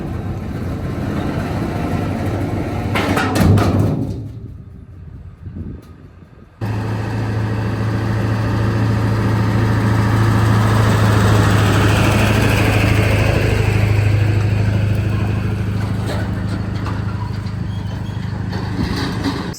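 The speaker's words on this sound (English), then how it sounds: "just pulled up here with the Bobcat. Lock this deal. So I'm gonna drive it down there" A Bobcat skid steer engine runs steadily at a constant drone as the machine is driven, close and loud. It briefly drops away near the start, then resumes with a deep, even hum, and no one talks.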